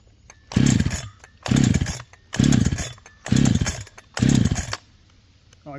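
A Farmertec Holzfforma G372 XP chainsaw with an OEM Walbro HD12 carburetor and the choke still on revs in five loud, evenly spaced bursts, each about half a second long with a short idle between them.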